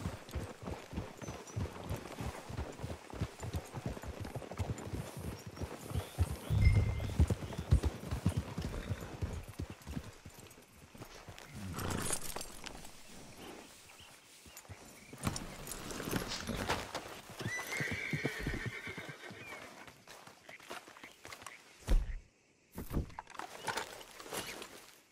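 Horses walking and trotting in Red Dead Redemption 2, with steady hoof clip-clops on the ground running through most of the scene. A louder thump comes near the end, and no clear neigh stands out.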